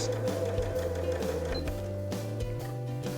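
A sewing machine stitches a quarter-inch seam on scrap fabric for quilting, a steady close mechanical whir with rhythmic stitching pulses throughout, with no voices.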